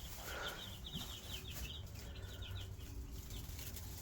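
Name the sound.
two-day-old chicks chirping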